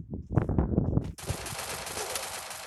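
Rapid gunfire in a video game, first a burst of close, punchy shots, then a sudden dense crackling spray that continues steadily, loud with no talking.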